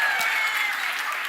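Audience applause at the end of a conference presentation, a steady dense wash of many hands clapping at close range, continuous and even in loudness throughout.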